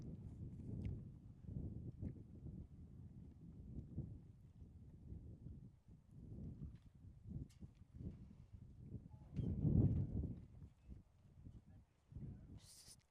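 Horse hooves thud across the ground during a show jumping round, a soft uneven clip-clop with a heavier landing near the middle, under light wind and distant arena murmur.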